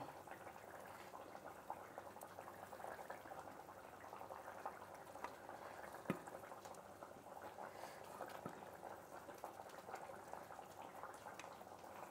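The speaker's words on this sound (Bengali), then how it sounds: "ঝোলটা অনেক ফুটে উঠছে" Fish curry broth bubbling at a steady boil in a pot, a faint, even gurgle that stays constant throughout with no talking.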